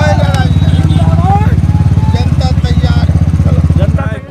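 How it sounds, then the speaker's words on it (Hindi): Motorcycle used for election campaigning in Jokihat, Bihar, its engine chugging in a steady, close, loud pulse beneath continuous talk from people nearby. "सरफराज आलम बाइक पर प्रचार कर रहे हैं।"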